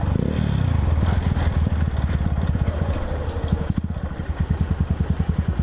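A Honda CBF motorcycle engine idles close by with a loud, rapid, even thumping pulse, briefly revved near the start and then settling back into its steady throb.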